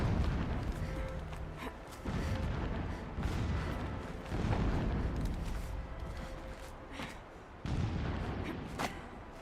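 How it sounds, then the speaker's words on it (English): Distant explosions rumble through a video game scene, a run of low booms and thuds with several heavier hits standing out against a continuous dull roar. "Explosions in the distance."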